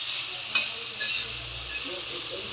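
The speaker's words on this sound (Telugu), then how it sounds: "ఇలా సిమ్లో పెట్టి వేయించుకుంటూ" Food frying gently in a pan on a low flame, a soft continuous sizzle with a few faint clicks and a brief low rumble, no speech.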